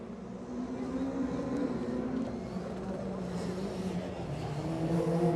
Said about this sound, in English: Kruder Super 2000 car, 2 litre, normally aspirated